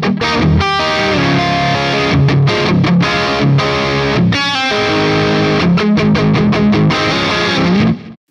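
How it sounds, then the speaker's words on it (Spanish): A Charvel San Dimas electric guitar played through heavy distortion, a loud, dense run of chugging chords and riffs that stops abruptly at the end. "ya habéis escuchado las configuraciones con distorsión"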